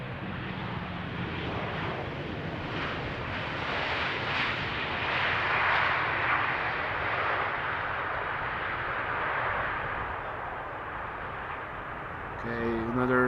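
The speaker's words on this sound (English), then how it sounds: "another textbook KLM landing, keeping up the speed somewhat" A KLM airliner lands at Amsterdam Schiphol with a loud, sustained jet engine roar that swells and holds steady, while a voice talks over it.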